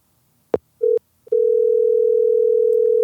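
A telephone call connecting: a few short clicks and tones, then a steady, loud continuous ringback tone that holds for nearly two seconds.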